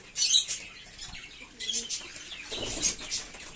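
Giribaz and White Mukhi pigeons flutter close by in short bursts of wing flapping, mixed with soft chirps and coos, and a faint voice is heard in the background.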